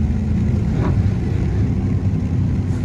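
Dodge Charger Scat Pack engine droning low and steady at close range while downshifting at night, with a short rise in revs near the middle and no talking.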